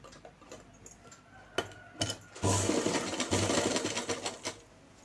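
A sewing machine starts with a few clicks, then runs into a steady, fast mechanical whir as it stitches a cross strip on a pair of trousers, with no one talking.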